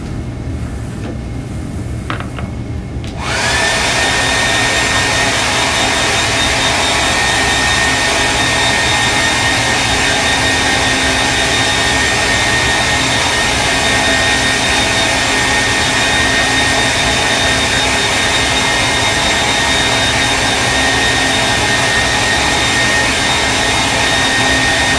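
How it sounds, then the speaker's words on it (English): After a few quiet seconds, a hair dryer switches on and blows steadily over a wet acrylic painting, a loud, close, unbroken rushing whir that runs on without pause. "And then I'm going to blow dry again."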